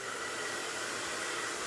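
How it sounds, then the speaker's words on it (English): A hair dryer on its warm setting blows over type 4 natural hair with a steady, close, even whoosh of rushing air and no voices. "take a hair dryer and put it on warm and blow dry it for a couple seconds per"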